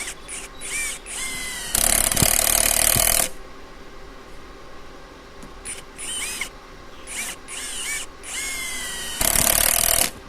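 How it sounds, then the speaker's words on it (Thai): A cordless driver fitted with a cheap adapter and screwdriver bit drives screws in two loud, sustained whirring bursts. Quieter scraping and handling noises come between them, with no talking. "เอามาใส่กับดอกไขควง แล้วก็ลองขันสกูให้ชมกันนะครับ"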